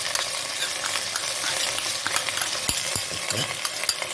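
Spice paste for Kashmiri mutton rogan josh frying in a pan, a loud continuous sizzle with occasional stirring scrapes and clicks, close up and steady throughout.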